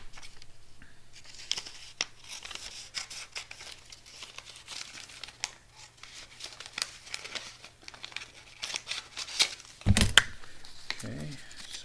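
A piece of paper handled and folded in half before going into a bucket, giving soft crinkling and rustling throughout, faint and close, ending in a louder crisp crumple with a brief voice.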